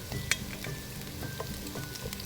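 Chicken pieces for pocherong manok sizzle and crackle in a hot pan as they are turned, with scattered pops and scraping taps over a steady frying hiss, close and without speech.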